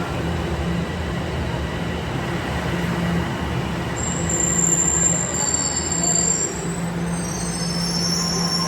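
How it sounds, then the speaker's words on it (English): A passenger train pulls into a station with a continuous rolling rumble, and high, piercing wheel squeals rise and waver over the last half as it slows, loud and close with no voices. "here's our train pulling in, and now we're gonna get on this and go all the way to Union Station"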